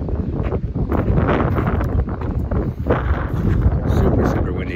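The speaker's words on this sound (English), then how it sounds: "Super, super windy today." Strong wind on the open plains of eastern Colorado buffets the microphone in a constant, loud roaring rush with gusty surges and no clear pauses.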